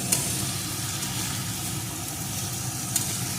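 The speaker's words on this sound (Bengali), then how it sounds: "এখন এইভাবে সমানে বেশ কিছুক্ষণ নেড়ে নেবে" Hilsa fish head stirred in a pan with pointed gourd and potato for a chorchori, a steady close sizzle with faint scraping and no talk.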